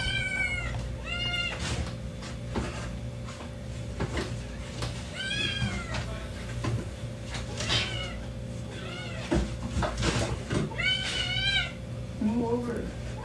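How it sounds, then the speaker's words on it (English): A kitten meows repeatedly, high rising cries in quick clusters, close and fairly loud, with indoor knocks and household noise around them. "A little time later, after losing Hunter, she ended up fostering a kitten."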